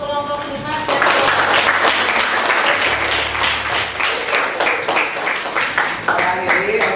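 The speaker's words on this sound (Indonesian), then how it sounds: "Beri aplaus untuk kelompok 5 dan kelompok" Classroom applause for student groups 5 and 6 at the end of a lesson, a dense, loud burst of many hands clapping that continues steadily throughout, with a voice speaking over it at the start.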